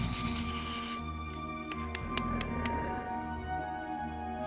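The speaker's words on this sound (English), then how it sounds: "Spray." A spray burst in a lab where a huge gorilla is being turned invisible: steady broadband hiss for about a second, then several short sharp bursts before things quiet into a low ambient hum.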